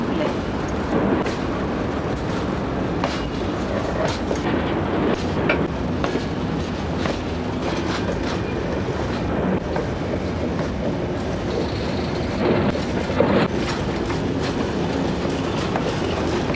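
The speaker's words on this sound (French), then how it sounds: "Attention au passage d'un train." A train runs through a station on the Dijon–Lyon line, a steady loud rumble with rhythmic clickety-clack of wheels over rail joints and faint high squeals, sustained throughout.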